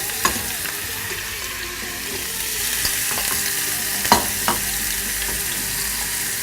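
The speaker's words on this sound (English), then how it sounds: "Now it's time to stir fry my sausage with my shrimp." Sausage and shrimp stir-frying in a pot with only a little oil: steady close sizzling throughout, broken by a few sharp clinks and scrapes of stirring.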